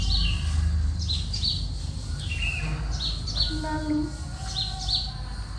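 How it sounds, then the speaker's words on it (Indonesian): A flock of birds chirps and tweets in repeated quick bursts, moderately close, over a low rumbling bed, with a narrating voice speaking briefly. "pasukan Abraha dihadang oleh ribuan burung-burung ababil yang berterbangan di angkasa"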